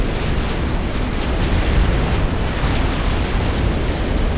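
Mobile artillery pieces in a 4v4 Setons match of a real-time strategy game pound continuously as a dense, loud roar of overlapping explosions and rumbling blasts, with no break throughout.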